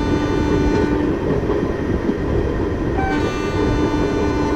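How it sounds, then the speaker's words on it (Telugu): A simulated Garib Rath Express passenger train runs on in the game Train Simulator Classic, a loud steady rumble of wheels and carriages with a faint tonal whine. "ట్రైన్ సౌండ్ అక్కడి నుంచి వస్తుందా?"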